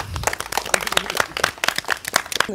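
Students applauding in a college hall, a short lively burst of many hands clapping close by with uneven overlapping claps.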